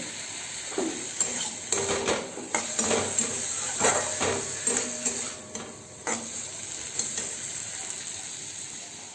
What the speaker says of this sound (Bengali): আলুটা ছেড়ে দিয়েছি তো এটা একটু ভাজা ভাজা হতে হবে